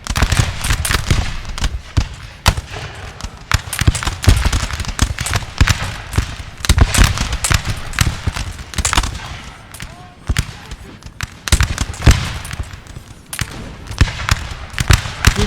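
Massed musket volleys and artillery fire in a Napoleonic battle in the video game Napoleon Total War, a dense, continuous crackle of overlapping shots with heavier booms throughout.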